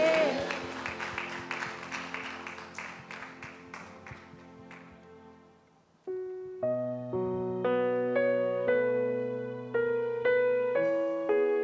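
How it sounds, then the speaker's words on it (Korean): A church congregation applauds during Sunday worship; the dense clapping is strongest at the start and fades over a few seconds beneath sustained keyboard chords, which carry on alone afterward. "우리 박수로 다시 한번 주님께 영광 올려드립시다"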